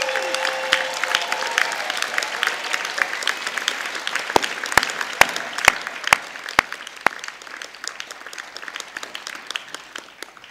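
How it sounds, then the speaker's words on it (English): An audience at a degree ceremony in Harrogate applauding, a dense crowd of clapping hands with some sharp nearby claps standing out, gradually easing off over several seconds. "And give them a massive cheer."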